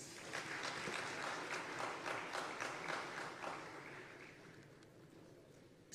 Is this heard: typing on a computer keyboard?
no